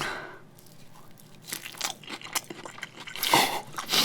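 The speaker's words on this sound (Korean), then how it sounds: "전 먼저 먹어보도록 하겠습니다. 옥수수전." Someone bites into a crunchy Korean corn pancake, oksusu-jeon, up close, with crisp crunching and chewing that builds into louder bites toward the end; no talk.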